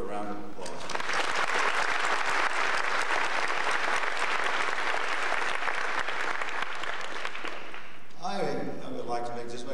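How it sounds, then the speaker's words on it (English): A large audience at a dental school graduation ceremony breaks into sustained, dense applause that fills most of the stretch before tapering off, with a voice starting to speak from a microphone near the end. "So let's welcome these people with a round of applause"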